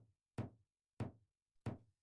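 Three separate knocks on a door in the Roblox game Kick Door Simulator, evenly spaced and each a single solid thud, sounding close and clear with no talking.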